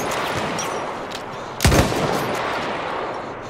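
Gunfire in a first-person shooter video game, with one loud nearby blast standing out over a steady wash of distant battlefield shooting.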